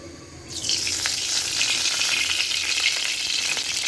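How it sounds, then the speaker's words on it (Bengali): Cooking oil hits a well-heated wok for bitter gourd and potato fry, a quiet hum giving way abruptly to a bright, steady sizzle with small crackles. "কড়াইটা ভালো করে গরম হয়ে গেছে এখন আমি কড়াইতে তেল ঢেলে দেবো"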